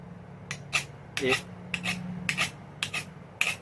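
A carbon steel knife's spine scraped along a fire steel, making about eight sharp, close rasping strokes at an uneven pace over a low background hum.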